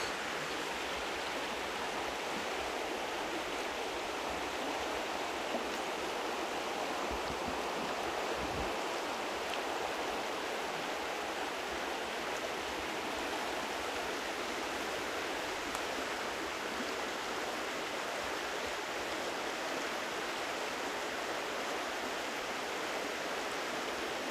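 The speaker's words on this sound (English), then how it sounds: "This is Fish Creek." Fish Creek flows steadily with a broad, even rush of water that barely changes over the whole stretch, with no talking.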